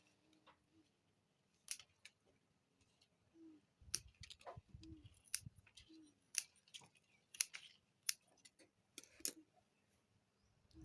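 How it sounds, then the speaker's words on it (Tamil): Pennywort (vallarai) plants snipped at harvest as they flower and yellow, heard as scattered crisp cutting clicks that grow denser and more rhythmic in the second half, close and fairly quiet, with soft rustling of leaves and no talk. "அதனால் கட் பண்ணுறேன்."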